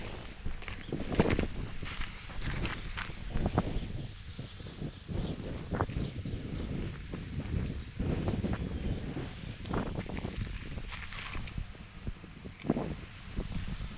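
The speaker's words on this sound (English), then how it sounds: "Glad the wind's strong out of the north." A strong north wind buffets the microphone outdoors in Iowa, a continuous loud rumble with gusty swells and rustling, and occasional footsteps or movement underneath.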